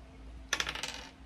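A single die is rolled onto a hard surface for an odd-and-even savings game, with a quick series of sharp clattering bounces that fade within about half a second, close and alone.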